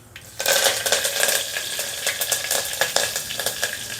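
Curry leaves dropped into hot oil in a pan while making hotel-style aloo saagu, giving a loud burst of sizzling and spitting crackles that continues steadily with sharp pops, no voices.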